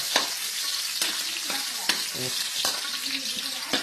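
Garlic and chili sauté in a hot pan, a steady close sizzle with a spatula scraping and tapping against the pan now and then, no voices.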